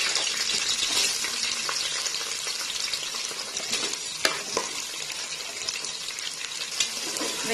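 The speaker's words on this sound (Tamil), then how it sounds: "வெங்காயத்தை நல்லா வதக்கிக்கலாம்." Onions fry for mutton biryani, giving off a dense, bright sizzle close to the pan. Occasional stirring knocks and scrapes cut through the steady frying, and nobody talks.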